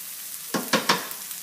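Kale greens sautéing in a pan: a faint low sizzle broken by three quick, close stirring swishes in a row.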